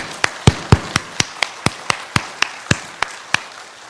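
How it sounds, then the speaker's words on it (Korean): A church congregation claps in unison, about fourteen crisp, evenly timed claps in a steady rhythm, fairly close and loud with no voices. "한번 박수 해보겠습니다."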